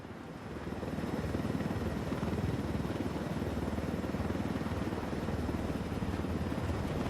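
A helicopter in the Ghost Recon Wildlands video game flies low through a canyon, its steady, loud rotor thump and engine drone filling the whole stretch without letting up.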